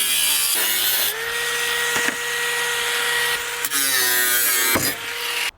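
Power tool cutting through the steel chassis of a Ford F-100 pickup truck, a loud continuous whining grind with a steady pitch that briefly drops and shifts as the blade bites, broken by short gaps and abrupt cuts.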